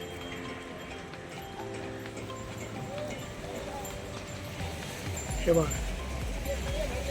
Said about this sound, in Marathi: ही बैलगाडी आलेली.